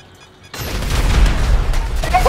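Loud, dense bursts of gunfire and booming blasts in GTA 5 roleplay, a continuous barrage starting abruptly after a brief quiet moment.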